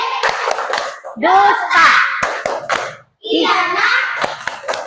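Children in a primary school classroom chant and clap together in rhythmic bursts, sharp hand claps punctuating their loud sung words, with a short pause between phrases.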